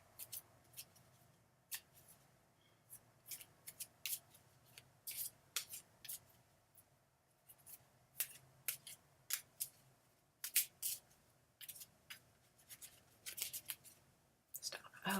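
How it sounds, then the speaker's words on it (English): A deck of playing cards is shuffled over and over, heard as faint, irregular bursts of crisp riffling clicks in a quiet room. "tell me when to stop shuffling"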